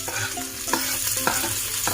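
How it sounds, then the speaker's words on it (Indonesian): Sliced shallots and garlic fry in about three spoonfuls of hot cooking oil, the start of a stir-fried young papaya dish: a steady sizzle broken by several sharp scrapes and knocks of a stirring spatula. "Masukkan bawang merah, bawang putihnya."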